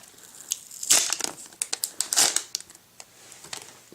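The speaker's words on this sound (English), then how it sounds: "Now let's just unwrap the Apple remote." An Apple TV second-generation aluminum remote from 2010 being unwrapped from its packaging, with close, irregular crinkling and tearing of plastic wrap in short bursts that peak twice and then settle into softer rustles.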